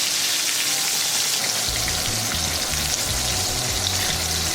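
Breaded oysters fry in a pan with a dense, steady sizzle and crackle, close and loud, with soft low thumps underneath and no voices.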